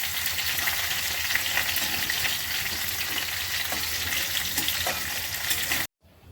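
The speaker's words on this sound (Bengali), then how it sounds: "এবার আলুগুলো ভেজে নিচ্ছি।" Potato pieces frying in mustard oil give a loud, continuous, close sizzle that stops abruptly near the end, with no voices.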